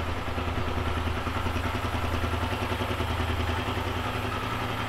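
A modified Start motorcycle idles close by, a steady low chugging engine note with a light mechanical clatter and no pauses throughout.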